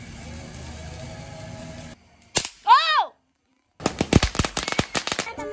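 A sharp firecracker bang, then a rising whistling pop from a firework, followed by a rapid string of crackling explosions from firecracker strings outdoors.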